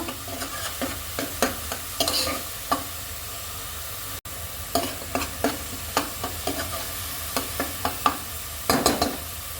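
Fish and spices frying in a pan, a steady sizzle broken by repeated sharp scraping strokes of a spatula at an uneven rhythm, close and moderately loud.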